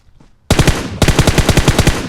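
Automatic gunfire in the mobile battle-royale game PUBG Mobile, a loud close burst of rapid rounds after a brief quiet lead-in, firing in an even, fast rhythm with a short break before the stream continues.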